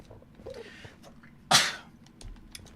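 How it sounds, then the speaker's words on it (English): A single sharp sneeze bursts out close to the microphone amid quiet background sounds, with a short breathy lead-in before it. "Needing to sneeze when you're looking at Enderman is the worst thing ever"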